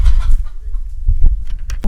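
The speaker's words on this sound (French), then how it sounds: "Mes poules." Pet hens cluck loudly and close by in a few short, choppy bursts with brief pauses between them.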